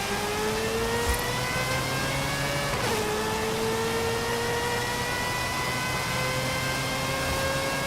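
Nissan retro car engine in Forza Horizon 5, heard as a steady mid-pitched drone that climbs in pitch, drops sharply at a gear shift and climbs again, loud and continuous with no talking.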